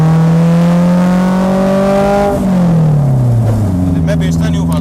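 A Toyota sports car running on high-octane petrol hums as it drives, its engine tone holding steady and then dropping as the car slows, with someone talking over it.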